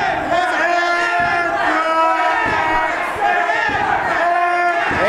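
Wrestling crowd chanting in rhythmic, repeated bursts, loud massed voices rising and falling in a steady cadence.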